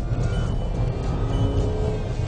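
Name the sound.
Volkswagen Tiguan 2-litre turbo engine accelerating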